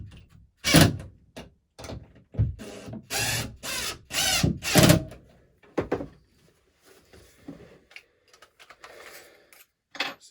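A hammer drill drives a screw into a wall in repeated loud, rattling bursts of a second or so separated by short pauses, close by, trailing off into quieter handling noises.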